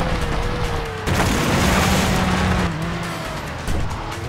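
Light blue Lotus Elise racing in Need for Speed Hot Pursuit 2, a loud continuous engine roar with rising revs and tire squeal, a sudden jump in intensity about a second in, and no talking.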